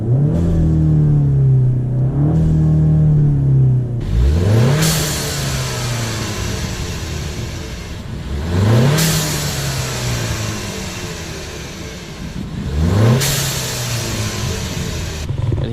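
Ford Mustang fitted with a blow-off valve adapter, heard from inside the car, revving hard three times with rising engine roars, each settling back to a steady idle rumble, close and loud with no talk.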